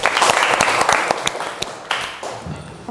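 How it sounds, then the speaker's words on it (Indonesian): Schoolchildren clap together in a classroom, a short burst of brisk, close applause with sharp individual claps that tapers off over a few seconds. "Tepuk tangan dulu anak-anak."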